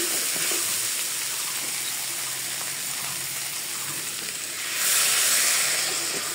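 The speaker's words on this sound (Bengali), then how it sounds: "এখন আমি এই সয়াবিনের বড়াটা দিয়ে দিব, দিয়ে আবার একটু ভেজে নিব।" Cauliflower and soy chunks frying in a pan, a loud, continuous close sizzle and hiss with a brief surge near the end.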